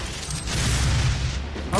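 Shotgun blast in the Doom video game, a loud booming shot with a heavy low rumble that swells and holds for over a second, then a second thump at the end, under game noise and a speaking voice.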